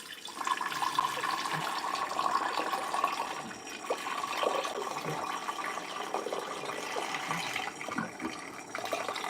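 Cold water pouring steadily into a glass container, a continuous close-up splashing and filling sound with no talk.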